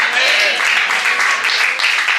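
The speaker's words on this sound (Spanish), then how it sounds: "Si este aplauso es para el Señor, déjelo bien, porque es para Él." Congregation applauding during a Spanish-language evangelistic campaign service in church, a steady wash of clapping throughout, fairly loud and continuous, with crowd voices mixed in.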